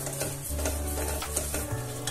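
A coconut and chocolate barfi mixture with milk powder is stirred in a pan over a low flame. The scraping and stirring carry on steadily for a couple of seconds, with a soft sizzle underneath and no talking.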